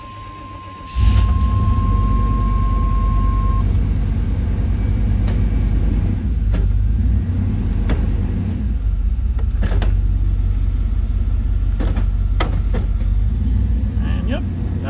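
A junkyard 1989 Chevrolet Suburban truck engine starts after a second of quiet and settles into a loud, steady running rumble for the rest of the clip, with sharp clicks and knocks scattered over the idle and a voice talking briefly.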